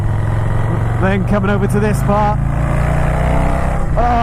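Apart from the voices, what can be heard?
Harley-Davidson Softail exhaust note, Vance & Hines 2-into-1 pipe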